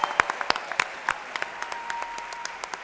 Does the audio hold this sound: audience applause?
yes